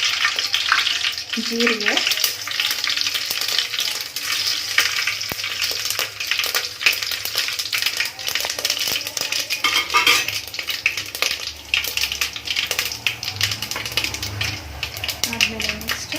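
Mustard seeds crackle and sputter in hot oil in a home kitchen while radish sambar is being made. A steady sizzle is dotted with sharp pops and occasional utensil clinks, under someone speaking throughout.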